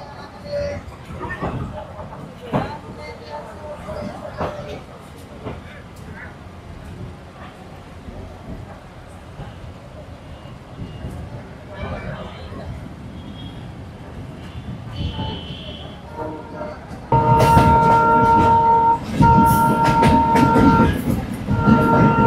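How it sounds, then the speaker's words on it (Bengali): Local train pulling out of Rajshahi Court station bound for Chapainawabganj, heard from onboard: steady rumble and rattling clicks with scattered knocks, then a loud, bright horn-like blare near the end, with people talking intermittently. "এখন এটা ট্রেন ছাড়লো আবার চাঁপাইনবাবগঞ্জের উদ্দেশ্যে রাজশাহী কোর্ট স্টেশন থেকে"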